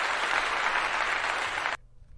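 A burst of applause-style clapping, dense and steady, lasting under two seconds before cutting off abruptly into near silence.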